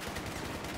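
Short burst of automatic rifle fire in Battlefield 4 on PS3, a dense run of rapid cracks lasting under a second, steady and fairly close with no talking.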